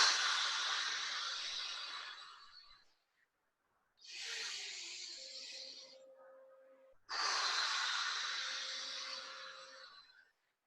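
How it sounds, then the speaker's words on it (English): Three long, deep breaths during a guided stress-relief breathing exercise, each a breathy inhale-exhale of about three seconds separated by short pauses, close and fairly soft, with no talking. "3 integration breaths."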